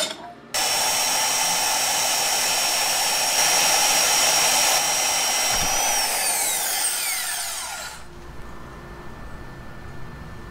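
A power tool cutting a metal rod at a 45-degree angle, a loud steady high whine starting abruptly and running about seven seconds before spinning down and trailing off.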